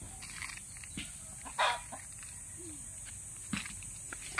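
Free-range native chickens on a farm cluck softly nearby, with scattered short calls and a brief louder squawk, over a steady high insect-like hiss and light rustling steps.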